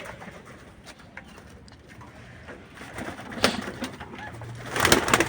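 Fantail pigeons nesting in a home loft, faint low cooing near at hand amid quiet rustling and a few sharp knocks and scrapes that grow busier toward the end.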